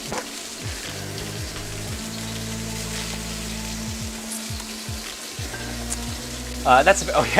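Beef searing in a pan for chow fun, a steady moderate sizzle running throughout, close by, with a few faint clicks and a brief clatter near the end.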